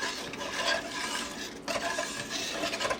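Beef stew being stirred in a cooking pot, a steady scraping and sloshing with soft clinks of utensil against the pot, continuous and close with a brief pause midway.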